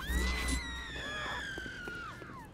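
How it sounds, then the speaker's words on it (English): Crowd of people screaming in the Saints Row IV video game, a sustained high wavering chorus of shrieks lasting a few seconds, fairly loud over a low rumbling game background. "I just get out of my thing and hear people screaming"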